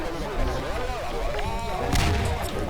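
A booming RPG explosion in the video game Garry's Mod, a dull, rumbling blast with a sharper crack near the end, heard under continuous game sounds and layered effects.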